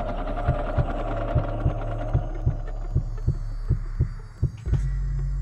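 Repeating heartbeat pulses in the Roblox Random Doors heartbeat minigame, soft low thumps at a steady pace over a constant hum, ending in a brief louder thud and a shift in the background drone; no voices.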